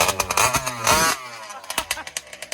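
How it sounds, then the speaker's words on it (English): A Taylor engine runs nearby with a sputtering, uneven chug, loud at first and then settling into faint, regular pops and knocks. "This is the Taylor engine purring."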